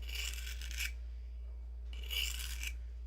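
A tool blade rasps across a 600 grit sharpening stone in two long, gritty strokes separated by a short pause, close and clear against a faint low hum.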